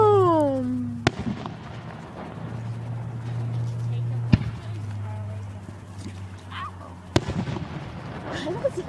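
Fireworks go off on a day at a lakeshore: three sharp, loud bangs spaced several seconds apart over a steady low hum, with whistling rising tones and voices chatting in between.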